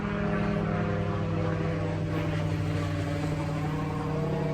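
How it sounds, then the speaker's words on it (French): A small helicopter overhead produces a loud, steady engine drone with a tonal hum, holding at constant strength throughout with no clear rise or fade. "Petit hélicoptère, il passe en haut, il passe en haut, petit hélicoptère."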